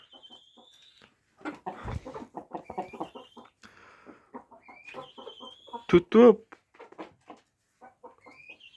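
Backyard chickens on a Ukrainian homestead cluck in short bursts, with one louder squawk near the middle, while someone talks close by.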